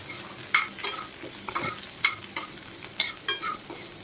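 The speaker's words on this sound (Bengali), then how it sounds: "আর তার সাথে কিছু কারি পাতা দিয়ে এটাকে ভালো করে আগে একটু ভেজে নিতে হবে।" Semolina fries in a pan with green chillies and curry leaves, a steady sizzle punctuated by regular scrapes of stirring, close up and with no talk.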